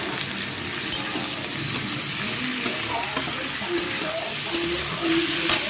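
Green chillies frying in a pan for an egg curry, a steady close sizzle broken by periodic spatula scrapes and ticks, with no one talking.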